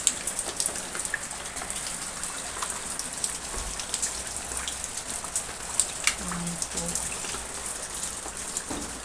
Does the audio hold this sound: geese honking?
no